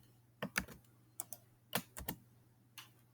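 Several quick keystrokes on a computer keyboard, close and fairly quiet, falling in small clusters of clicks with short pauses between them.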